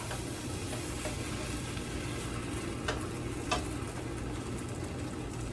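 Onions sizzle steadily in a hot pan, a constant even frying hiss with a couple of faint clicks of a stirring utensil against the pan.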